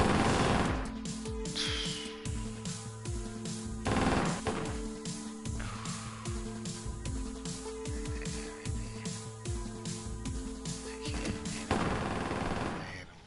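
Gunfire in the video game Ronin crackles in rapid bursts and volleys of repeated shots, dense and continuous over a game soundtrack with a steady music bed, no talk heard.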